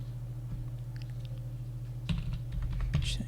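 Quiet, quick bursts of typing on a computer keyboard, with a few separate keystrokes early on and then denser clicking over a faint steady hum.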